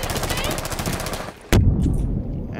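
Rapid automatic gunfire in a video game rattles loudly and close, pauses briefly, then resumes with a heavy, booming burst of shots.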